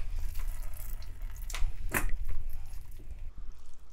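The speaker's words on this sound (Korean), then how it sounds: "꼬막에 물기를 꾹 짜줘" Cooked cockles squeezed by hand to press out water, giving a wet trickling and splashing sound with a brief louder squelch partway through, close and fairly quiet against low background noise.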